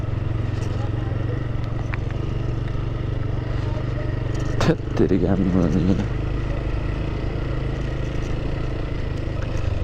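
Scooters rolling slowly along a dusty road, a steady low engine drone close by throughout with a brief louder rev midway, while people talk over it.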